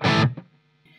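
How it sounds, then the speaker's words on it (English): A short, buzzy distorted electric guitar chord played through an amp's overdrive channel rings out and quickly decays, followed by a faint second pluck and lingering hum. "what about if we put the drive channel on?"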